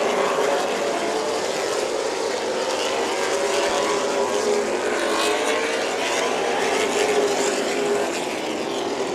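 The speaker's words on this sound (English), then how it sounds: "The number 99 machine, white all over Peterson's bumper for the lead." Late model stock race cars circling Orange Show Speedway in a 100-lap main event, a continuous loud roar of engines with rising and falling pitch as the pack passes, steady and dense throughout.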